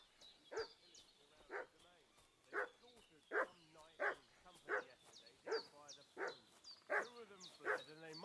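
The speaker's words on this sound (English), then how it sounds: "What's that dog making such a fuss about?" A dog in a medieval peasant video game barks repeatedly at a steady pace, about a dozen sharp barks close by, with faint game ambience underneath.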